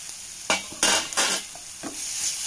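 Ginger garlic paste is sautéed in a pan with a soft frying hiss under several bursts of stirring as a utensil scrapes and clinks against the pan, with no voices.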